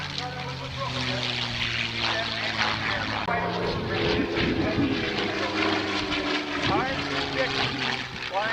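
The P-51 Mustang 'Swamp Fox' propeller engine drones steadily at an air show, a loud continuous tonal roar with a pitch shift partway through, while an announcer talks over it.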